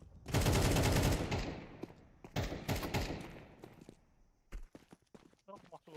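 Shotgun and AK fire in a video game, a burst of heavy rapid shots followed by more scattered blasts and thuds, with a player talking over the action.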